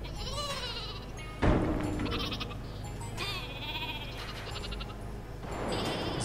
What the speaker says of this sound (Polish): Tu jest owca w jakiejś klatce.